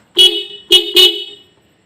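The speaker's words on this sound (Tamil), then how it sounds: "ஸோ இப்போ வந்து ஹார்ன் அடித்து பார்க்கலாம்." Horn on a Bajaj Pulsar motorcycle, undergoing horn tuning for a sound problem, honks three times in quick succession: a short beep, a pause, then two closer blasts, loud and alone.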